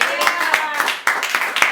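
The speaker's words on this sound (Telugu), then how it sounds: "ఒకసారి చప్పట్లు గట్టిగా." A congregation at a church sermon claps loudly in a steady rhythm, sharp claps landing about every quarter to half second over a continuing voice or music.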